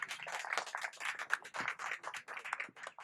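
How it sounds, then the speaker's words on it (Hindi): Audience at a CPWD SC/ST association New Year event applauds with dense, steady clapping that holds for several seconds, close and fairly loud. "जोरदार तालियां साथियों"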